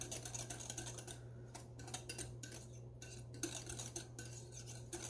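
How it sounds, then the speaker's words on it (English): A spoon clinks and scrapes steadily against a bowl while stirring a microwave chocolate pudding mixture with melting butter, quiet and close, with short pauses between strokes. "we're just going to stir this up until the butter gets melted"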